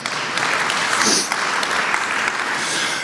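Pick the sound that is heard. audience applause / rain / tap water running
audience applause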